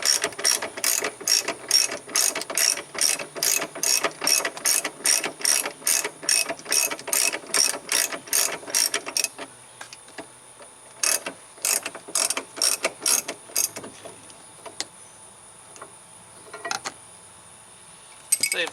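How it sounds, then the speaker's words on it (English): A ratchet clicks in quick repeated bursts while removing a Torx T50 bolt from a third-generation F-body Firebird, close and crisp, with a steady run of strokes, then a pause and a few more scattered sets of clicks. "I'll take this T50 and go ahead and remove this torque bit"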